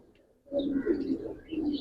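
Low, soft cooing of black-necked pigeons repeats close by in gentle throaty bursts, starting after a brief quiet moment.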